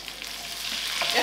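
Cauliflower leaves and garlic sizzling in a frying pan, a loud, steady, close hiss of frying with no talk.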